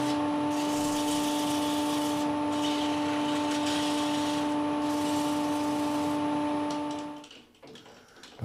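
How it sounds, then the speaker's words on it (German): Sandpaper rubs against a wood-turned bowl spinning on a lathe, a steady close hiss over the motor's constant hum that ends as the lathe winds down. "Und dann natürlich schleifen."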